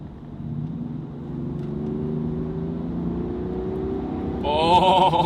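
Land Rover Defender 110 First Edition P400 SE accelerating onto a highway, a steady engine drone and road rumble from inside the cabin that swells as it speeds up, with a brief higher tone near the end.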